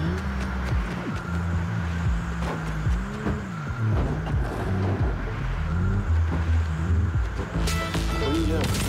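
Engine hum of a car driven by another player in Fortnite, a steady low drone running the whole time under game music and people talking.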